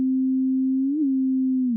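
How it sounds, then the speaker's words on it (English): A plain sine tone at a steady low pitch runs through a Kilohearts Disperser phaser effect in Bitwig, holding loud and constant with a slight bend in the middle and a dip in pitch at the end. "it's supposed to create like a phaser type effect into it"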